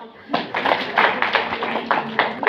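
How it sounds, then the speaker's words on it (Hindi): A crowd claps in a steady burst of applause lasting a couple of seconds at a school event, fairly close, with some voices mixed underneath. "सही जवाब है, पाकिस्तान के लिए तालियां।"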